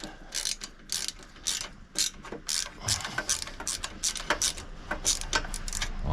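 A ratchet clicks in rapid bursts while bolts come off the exhaust manifold of a Ducati Scrambler, loud and close, with brief pauses between strokes and faint metallic clatter.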